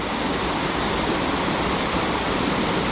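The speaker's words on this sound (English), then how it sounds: "there's nothing in the way of getting a good shot of the waterfall right across" The waterfall at Wharnley Burn gives a constant, full roar of falling water, steady and enveloping with no other sounds.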